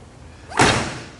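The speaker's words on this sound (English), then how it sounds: "Door closes just like it should, and look at the fitment." The door of a 1972 Chevrolet Nova swings shut with a single solid, close thud after a short soft swing, then quiet.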